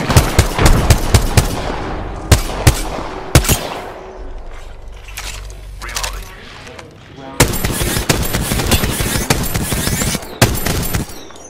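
Rapid bursts of automatic gunfire from an Apex Legends match, sharp close cracks in dense volleys with short gaps, a heavy sustained barrage in the second half, and faint voices mixed in.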